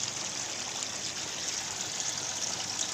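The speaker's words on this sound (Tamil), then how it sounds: "தண்ணி ஃப்ளோவாக இருக்குது, தண்ணியை நல்லா ஊற்றுது." Water from a submersible fountain pump inside an air cooler pours in a steady, close stream, a constant hissing trickle with no pauses and no voices.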